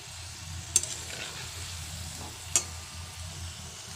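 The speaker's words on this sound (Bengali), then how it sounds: "এগুলো ওরকমই একই সেম প্রসেসে ভেজে নেব মিষ্টিগুলো" Puffed rice kalojam sweets fry in oil, a soft steady sizzle close by with two sharp clicks of a utensil against the pan.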